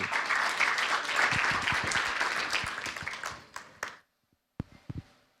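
A burst of applause from a crowd at an energy tech competition final, dense clapping that thins out, ending in a few scattered claps.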